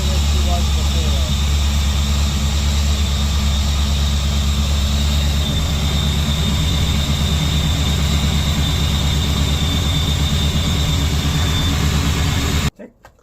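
An SN95 Ford Mustang engine idles smoothly after fresh spark plugs, a steady close low rumble with a faint high whine above it, running evenly until it cuts off abruptly near the end.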